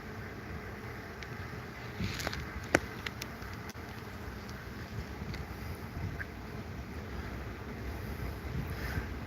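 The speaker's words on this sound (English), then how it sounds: "Ooh, that wind." Steady wind buffets a microphone outdoors near a mobile home community, a continuous broadband rush with a few brief gusty bumps, no talking heard.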